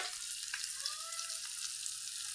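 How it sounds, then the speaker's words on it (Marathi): Malvani-style fish fries in a hot pan, giving a steady, close, even sizzle that runs through the whole stretch with no voices over it. "चांगले मासे भाजून घ्यायचे बघा."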